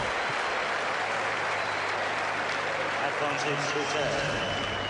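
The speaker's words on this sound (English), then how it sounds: "Even the American crowd gives Boutter a round of applause for that." At a US Open tennis match in 2001, an American crowd applauds Boutter, a sustained round of clapping that swells slightly toward the end, with faint crowd noise beneath.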